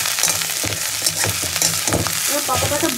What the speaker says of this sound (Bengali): এবার পাতাটাকে ঢাকা দিয়ে একটু ভালো করে ভেজে দেবো